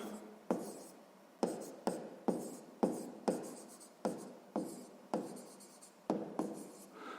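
Pen on paper writing out a proportion for a sixth-grade maths exercise, a series of close scratchy strokes in short bursts, each starting with a sharp tap and fading, with brief pauses between.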